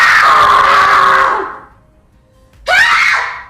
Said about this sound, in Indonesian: Doni malah membiarkan Ocha berteriak sekecang mungkin.